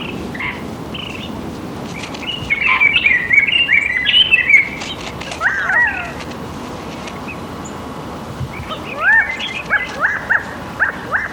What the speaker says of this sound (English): This signaling may confuse possible predators and also alerts other roadrunners.